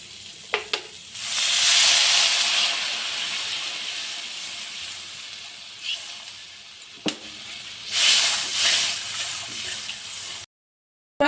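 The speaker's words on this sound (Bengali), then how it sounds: "ঝোলটা ফুটে এসেছে" Aair fish curry broth (jhol) coming to a boil in a home kitchen pot, a steady sizzling hiss that swells twice, with brief clinks of utensils in between, close and alone.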